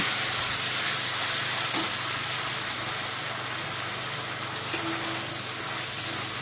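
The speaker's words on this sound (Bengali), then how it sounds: "গোটা জিরে, আদা, টমেটো সব বেটে রেখেছিলাম, ওইটা এখন ওই তেলে দিয়ে ভালো করে আমি কষিয়ে নেব।" A ground paste of whole cumin, ginger and tomato fries in hot oil in a pan while cooking a lentil dhoka dish. A steady, even sizzling hiss runs throughout, with a couple of faint clicks.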